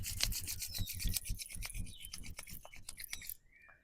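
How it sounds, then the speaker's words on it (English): Palms rub together briskly and close up during a meditation, a dense rasping swish that runs steadily for about three seconds before stopping, no speech over it. "rub your palms together"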